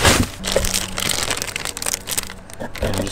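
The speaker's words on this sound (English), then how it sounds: "Let's see if I can unpack this carefully, one-handed." Crinkling and crushing packaging crackles up close as a signature-edition Tesla wall connector is unwrapped one-handed, with rustling bursts throughout and faint talk.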